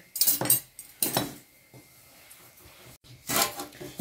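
Earthenware clay pot being handled and turned over in a kitchen, giving a few short clinks and knocks in separate bursts with quiet gaps between them.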